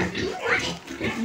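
A white pig on a pig farm gives close, low grunts in a few short rough bursts with brief pauses between them, and there is some background noise.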